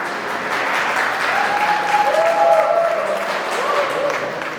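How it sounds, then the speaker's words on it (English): Guests applauding after the Hastamilap and Kanyadan rituals of a Hindu wedding ceremony in Austin, Texas, with sustained crowd clapping while a few voices talk and a faint tonal sound carries underneath. "Everyone, big round of applause for the Hastamilap and Kanyadan ceremony of"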